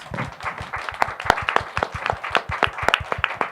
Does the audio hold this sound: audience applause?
yes